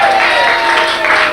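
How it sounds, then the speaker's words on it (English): Studio audience clapping at a live comedy variety show, a loud, continuous burst of applause with crowd noise underneath. "Big round of applause for him."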